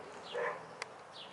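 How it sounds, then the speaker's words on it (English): Dogs yip and bark faintly in the distance outdoors in the morning, a couple of brief high calls against quiet background hiss. "You can hear the dogs barking."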